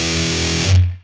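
Electric guitar through a Fat Distortion pedal cranked up, a single thick saturated chord ringing with dense harmonics, loud and close, then cut off abruptly after about a second.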